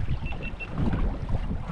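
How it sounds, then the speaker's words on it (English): Wind gusts over open water around a fishing boat out after snapper, a brief rumbling buffet of wind noise on the microphone with faint water and hull sounds, no speech. "now the wind's come up"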